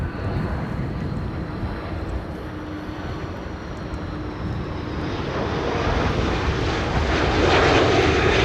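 A Delta A330 airliner landing at Amsterdam Schiphol during Storm Amy, its engine roar steady and broad under gusting wind noise, swelling louder toward the end as the jet nears.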